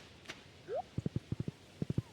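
Horse hooves clip-clopping in Stardew Valley, three quick groups of soft thuds in a steady rhythm, preceded by a short rising game tone, with no talk.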